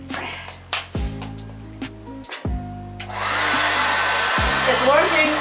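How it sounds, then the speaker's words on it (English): A hairdryer switches on and blows air into a giant balloon, preceded by a few thumps and handling noises, then settles into a loud, steady whooshing roar for the last couple of seconds. "now I'm gonna use the hairdryer to get some air into this thing"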